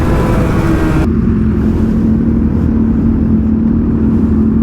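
Superbike engine held at full throttle while cruising through California, a steady loud drone with a constant tone and wind rush; the high-pitched edge drops away after the first second, leaving a low sustained roar.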